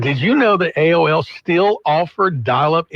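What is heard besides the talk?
None of the usual background noises is heard.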